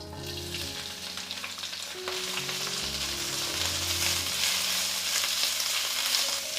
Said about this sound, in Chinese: 酸菜我们先用一点点油把它炒香。